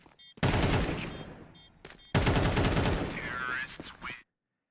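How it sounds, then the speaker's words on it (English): In a professional Counter-Strike match, rapid gunfire rips out in two loud, dense bursts separated by a brief pause. The second burst is followed by a whistling, sweeping tone before cutting to silence. "Beautiful shooting."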